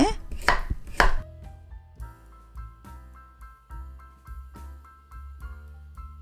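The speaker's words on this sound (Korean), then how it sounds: "곱게 채 썰어 주세요. 네, 당근도 조금만 넣어 주겠습니다." A knife julienning cabbage and carrot on a cutting board gives a few loud rapid chops at first, then a steady series of softer, evenly spaced cuts, close and alone with no talk.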